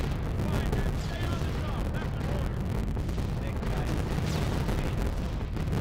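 Rapid, dense gunfire from a B-17 bomber's nose guns in a flight combat game, a steady loud rattling barrage running continuously under engine roar, with voices over the top.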